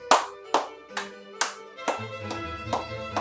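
Hands clapping in a children's music lesson, a slow, evenly spaced series of about eight distinct claps sweeping in an arc, with a faint tone sustained beneath the later claps.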